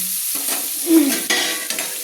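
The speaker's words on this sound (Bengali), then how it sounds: "আমি চিংড়ি মাছগুলো কিন্তু পনেরো থেকে কুড়ি সেকেন্ড আমি ভেজে নিয়েছি" Prawns frying in a pan and being stirred with a spoon, a steady close sizzle broken by scraping and stirring clatter, with no voices.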